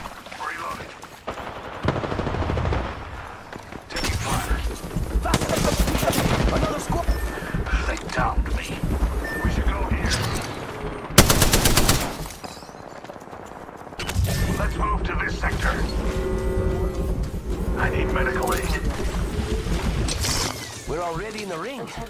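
Spitfire light machine gun fire in the online shooter Apex Legends, loud sustained automatic bursts and game explosions mixed with in-game character voice lines and music.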